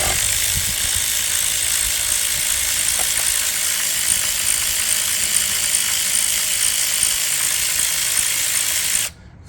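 A ratchet turns out a spark plug on a Gen 3 Hemi engine, giving a steady, close, continuous mechanical whir and clicking that runs for about nine seconds, then stops abruptly.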